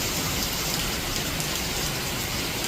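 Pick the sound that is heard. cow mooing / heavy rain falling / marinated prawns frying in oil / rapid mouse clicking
heavy rain falling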